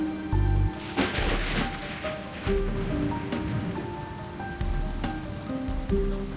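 Rain falls steadily in a video game (Life Makeover), a continuous patter on surfaces layered with soft game music tones and occasional louder splashy bursts, no speech.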